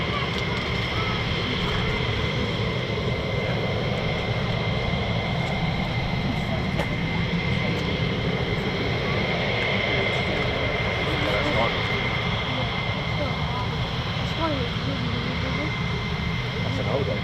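Military jets, F-15 and F-35, roar through performance takeoffs and quick climbs at RAF Lakenheath in a loud, continuous, distant engine drone, with people talking throughout.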